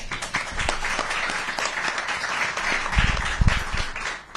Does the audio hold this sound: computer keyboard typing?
no